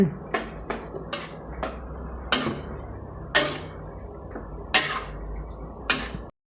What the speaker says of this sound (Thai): เราจะใส่หมูนะครับ แล้วเราจะคนนะครับให้เข้ากัน